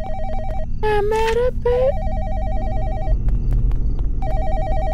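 Payphone in a video game ringing in repeated electronic trills, loud and near, with a person briefly speaking over the first ring while low game background noise continues.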